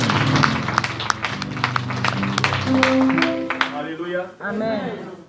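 A church congregation claps together in a burst of sharp, steady applause, mixed with raised voices and a sustained musical tone that fades into voices at the end.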